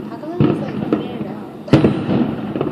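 Fourth of July fireworks burst in two distinct booms more than a second apart, with lighter crackles around them, as voices talk in the background.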